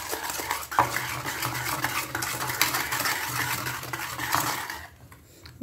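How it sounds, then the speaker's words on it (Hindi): A spoon stirs Swiss roll cake batter in a bowl, giving a continuous close scraping and swishing with occasional clinks against the side, which then fade to near quiet at the end. "अब हम फिर से इनको मिक्स करेंगे, थोड़ा स्मूथ बैटर बनाएंगे।"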